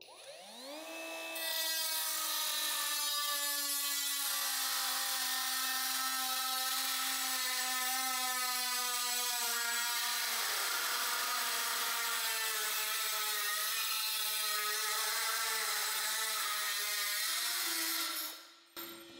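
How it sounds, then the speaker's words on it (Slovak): A Parkside Performance PPWSA 12 compact angle grinder cuts through 2 mm thin sheet metal, a steady high-pitched whine and metallic screech held alone for about sixteen seconds before winding down. "Ďalej pokračujem rezaním tenkého plechu o hrúbke niekde okolo 2 mm"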